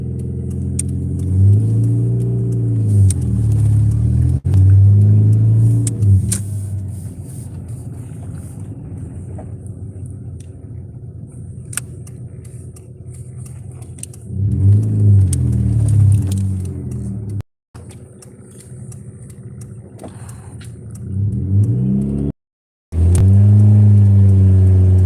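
A car engine revs while out of gear, a vehicle with trouble in first gear, rising and falling in repeated loud surges with a steady rumbling idle between them and two brief dropouts near the end.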